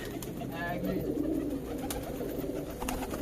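Giribaz pigeons cooing near their loft, soft repeated throaty coos at moderate distance, with a voice talking faintly in the background.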